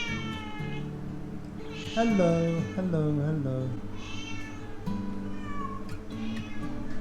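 Stray cats caught on the streets meow repeatedly in the recovery room of an animal welfare clinic in the Philippines. The cries are fairly close and overlap one another, with people talking around them.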